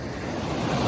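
Sea waves washing onto a sandy beach under gloomy, overcast skies, a steady broad surf wash with wind noise across the microphone, rising slightly toward the end, with no voices.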